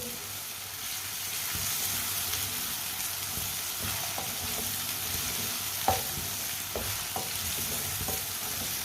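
Crushed garlic and ginger sizzle and crackle steadily in a hot pan, with occasional stirring clicks and a sharp utensil tap partway through.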